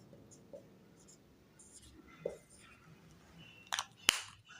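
Chalk or pen scratches and taps on a board during a physics lesson, sparse and brief, with two sharper strokes near the end over a quiet room hum.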